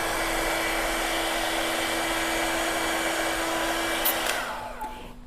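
A hot air brush blows a steady, loud rushing stream of air for several seconds, then winds down and cuts off near the end, with no one talking.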